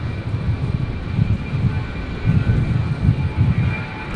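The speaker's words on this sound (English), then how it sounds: "The 320 arriving on 19 left, coming in from Sydney." A Jetstar Airbus A320 from Sydney lands on runway 19 left, a loud rumbling jet roar with pulsing low-end throb, steady and close, no voices.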